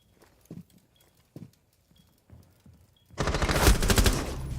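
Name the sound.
gunfire in competitive shooter video game match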